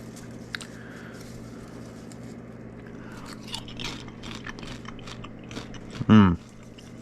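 Pumpkin spice popcorn being eaten up close, with soft crunching and chewing over a quiet room hum and one sharp, loud bite near the end.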